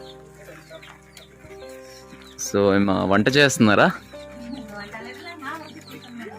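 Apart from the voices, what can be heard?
native country chicken chicks clucking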